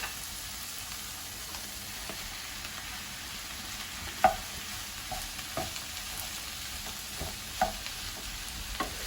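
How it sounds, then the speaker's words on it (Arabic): Minced meat kofta frying with onion in a pan, a low steady sizzle with a few soft clicks and stirring taps, fairly quiet and close, no voices. "دابا من بعد ما بدات كتشحر عندي البصله غادي نزيد عليها الكفته."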